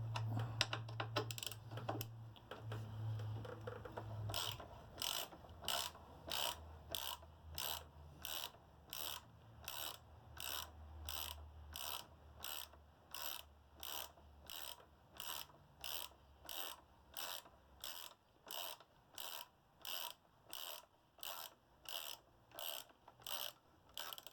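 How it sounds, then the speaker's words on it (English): Ratchet on a 2003 Yamaha YZF R1 motorcycle loosening bolts for a shock repair: after a few seconds of low mechanical rumble, a long steady run of sharp, evenly spaced clicking strokes, close and alone. "I'll just loosen off the bolts, take them out, move the peg over a little bit."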